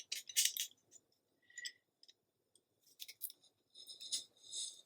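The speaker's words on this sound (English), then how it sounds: "I'm going to take my fancy box cutter and trim that off real quick by hand" A box cutter trims a sheet of patterned paper for a scrapbook mini album, making short, crisp slicing and scraping bursts up close, quiet, with brief pauses between strokes.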